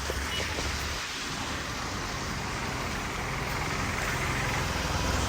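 Rain falls outside a tea shop shed as an even, continuous wash of hiss, moderately loud and unbroken, with no talking.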